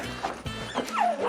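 Country dogs give a quick couple of yips and short barks, close and fairly loud, in a brief burst.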